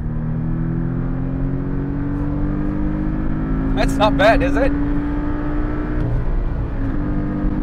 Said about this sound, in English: I do enjoy the sounds the engine makes.